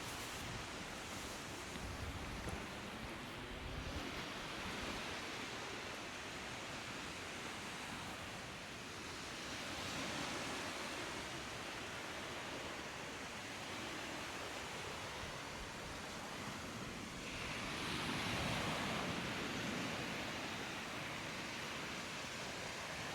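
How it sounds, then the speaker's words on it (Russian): Caribbean ocean waves wash in a steady, broad roar of surf, with gentle swells rising and falling every few seconds, heard at a moderate distance with no voices. "очень красивый океан, просто фантастический"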